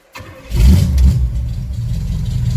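A 1968 Pontiac ambulance engine cranks briefly, catches with a loud rumble and a quick rev, then settles into a deep, steady idle close by.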